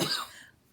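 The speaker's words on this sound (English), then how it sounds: "I'm hoping it will stop the coughing." A single short, breathy cough, fairly close, trailing off quickly into quiet.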